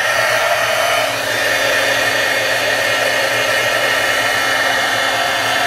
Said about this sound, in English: let me pull my heat tool here